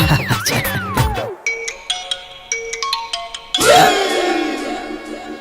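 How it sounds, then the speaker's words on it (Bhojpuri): A mobile phone ringtone plays alone, a bright electronic melody of quick repeating tones, followed by a brief swelling chime near the end. "ये फोन के कर बजाता? अरे वो दुल्हन के रिंगटोन है।"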